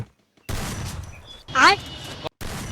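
Gunfire from the Free Fire mobile game landing headshots: a couple of sharp bursts separated by brief silences, with a voice speaking over part of the action.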